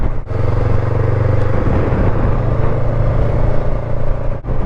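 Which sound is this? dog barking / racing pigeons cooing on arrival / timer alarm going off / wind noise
wind noise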